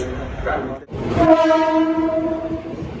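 A local train at an Indian railway station sounds a loud, sustained horn close by, following rumbling platform and train noise, with a brief dip in sound before the horn.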